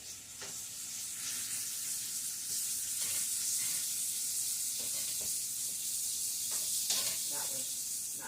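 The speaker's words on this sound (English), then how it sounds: "go ahead and flip those sausage again" Sausages sizzle in a frying pan on a Southern breakfast stove, a steady bright hiss broken by a few soft scrapes and taps as they are turned.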